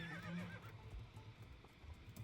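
A horse in the video game Star Stable Online gives a short neigh near the start, followed by soft hoof clip-clops at low level.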